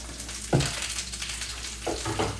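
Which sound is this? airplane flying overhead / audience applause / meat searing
meat searing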